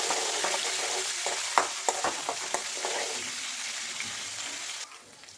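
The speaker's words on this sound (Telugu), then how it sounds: "1 స్పూన్ జీరా, పచ్చిమిర్చి, ఆనియన్ వేసుకొని ఒకసారి పూర్తిగా మిక్స్ చేసుకోవాలి." Cumin, green chillies and onion stir-frying for lemon rice, a steady close sizzle broken by repeated spatula scrapes and taps on the pan, fading to quiet at the end.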